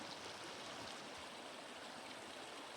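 A mountain creek rushes steadily, a continuous wash of flowing water that stays even and unbroken, with nothing else standing out above it.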